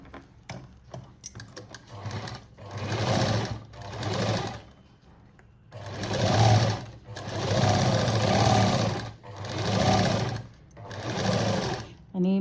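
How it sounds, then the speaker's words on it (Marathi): A sewing machine stitches a patch made from a saree border, running in several bursts of rapid rhythmic clatter separated by pauses, close by, with someone talking between the runs. "आणि आता इथं शिलाई मारून घ्यायची."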